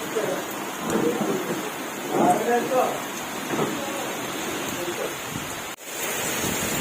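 Rain pours down steadily during a wind-driven storm in Gautampur, Bhadradri Kothagudem district, Telangana, a broad continuous hiss with faint voices in the background.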